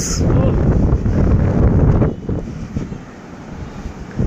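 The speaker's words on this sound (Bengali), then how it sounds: "বাতাসটা আরও জোস।" Strong wind at Cox's Bazar buffets the microphone in a loud, continuous roar that eases after a couple of seconds into gustier, lighter blowing.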